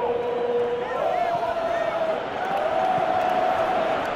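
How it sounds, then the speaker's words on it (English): Stadium crowd in the football video game PES 2018, Brazil versus Costa Rica, a steady roar of cheering and whooping that swells and holds throughout, with a commentator talking over it. "Crowd appreciates good football all round there."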